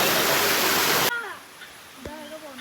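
A forest waterfall roars loud and steady at close range for about a second, then the sound cuts away abruptly to a much quieter scene with a brief voice.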